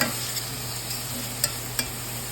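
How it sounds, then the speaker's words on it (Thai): Onions sizzle steadily in a hot pan for Japanese curry, with a soft continuous frying hiss and a couple of light stirring scrapes, no voices. "ตอนนี้ แอนนำหัวหอมใหญ่ลงไปผัดแล้ว"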